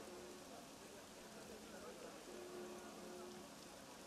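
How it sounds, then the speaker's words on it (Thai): Steady rain falling in Assassin's Creed Unity, a constant soft hiss of drops on surfaces throughout, fairly quiet and continuous, with faint game background sounds and a low murmur of voice beneath. "ฝนตกอีกแล้ว"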